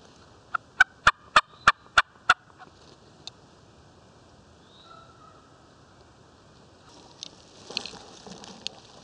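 A wild turkey tom gobbles in a rapid burst of six sharp notes in Tennessee woods during a spring hunt, fairly far off, followed by quiet and faint rustling.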